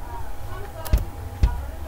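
A kick drum in an FL Studio Zora beat, made from a cymbal sample: two quick, punchy thumps about half a second apart over low background hum.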